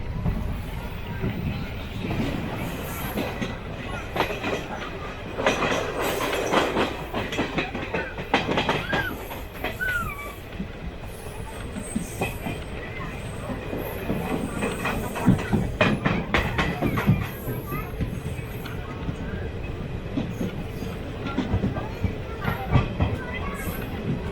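The Jan Shatabdi Express rolls along the rails near Trichy, a steady rumble with rhythmic clickety-clack of wheels over joints and occasional hiss, heard from on board with faint voices in the background.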